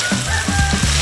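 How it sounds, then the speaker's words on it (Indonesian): Vegetables and petai are sautéed with shallots, garlic and chili, giving a loud, close sizzle with a few quick stirring scrapes across the pan during one brief moment. "sayuran serta petai pun dimatangkan atau ditumis hingga sedikit layu bersama bumbu rempah sederhana"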